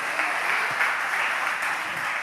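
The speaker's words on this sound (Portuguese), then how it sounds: "Muita salva de palmas para Jesus, que Jesus é bom." Churchgoers clap together during a worship gathering, a steady, moderately loud round of applause with a few sharper claps standing out, continuing evenly throughout without speech.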